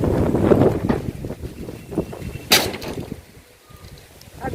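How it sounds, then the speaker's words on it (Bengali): Wind blows outdoors on a cloudy day, gusting into the microphone as uneven low rumbling bursts, with one sharper buffet partway through before easing to a softer steady rush. "আর দেখো হাওয়া দিচ্ছে"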